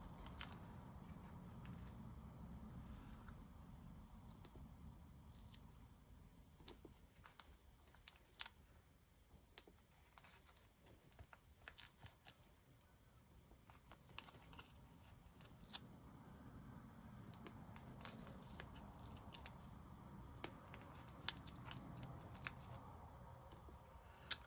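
Scissors snip through foam backing for card making, a quiet series of short crisp cuts and paper handling clicks, close and faint in a still room.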